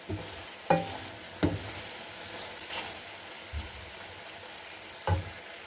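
Petha sweet cooks in thick, sticky sugar syrup under a soft, low sizzle, with a few distinct knocks and scrapes from stirring spaced a second or more apart.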